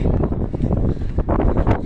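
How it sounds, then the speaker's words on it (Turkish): Strong wind buffets the microphone in a continuous loud rumble with gusty surges, no voices coming through. "Oo, çok rüzgar var, çok rüzgar var."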